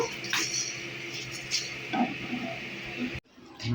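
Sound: dry-roasting cumin, coriander, chillies and cardamom in a pan

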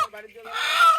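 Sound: desi chicken clucking

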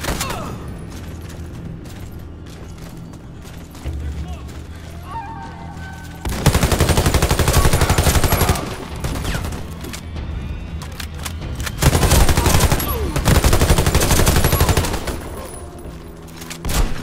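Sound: mounted guns firing in the Warface video game

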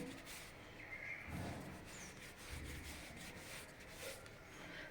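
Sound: hands rubbing spice mix into flour dough for shankarpali

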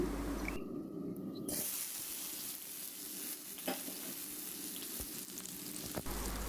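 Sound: chopped onion, garlic and dried chilli frying in hot oil

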